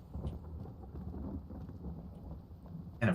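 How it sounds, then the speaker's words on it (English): Rain and thunder in the video game Enshrouded, a low rumbling storm with pattering rain heard alone at moderate level, ending in a short sharp crack of thunder. "And of course it's gonna rain because I have to go outside now."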